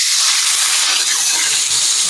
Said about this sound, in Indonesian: Kita tumis, kita masukin ke sini